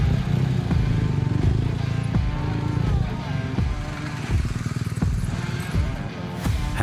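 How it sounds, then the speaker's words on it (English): BMW GS adventure motorcycles ride in a confined off-road area during the International GS Trophy 2022 in Albania, with three riders. Engines rumble steadily with intermittent clatter and scrapes, and a voice may be talking over them. "try doing this on a big adventure bike while the 3 of you ride in a confined area and under time pressure"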